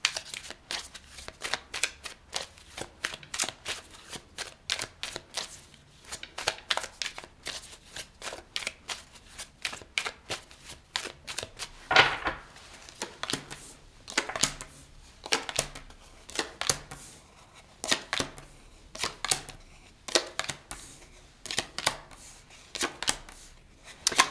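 A deck of tarot cards is shuffled again and again, giving close, crisp riffling and flicking bursts in a steady rhythm with brief gaps between them.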